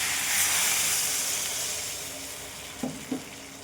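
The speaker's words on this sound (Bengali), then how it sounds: "এবার জল দিয়ে দেবো" Water poured into a pan of sizzling fried-fish curry masala, producing a loud, hissing surge of steam that gradually fades, followed by two brief clinks of a utensil near the end.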